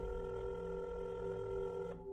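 Telephone tone during a detective's call at a police desk, a steady electronic tone held for about two seconds and cutting off abruptly, with no talk.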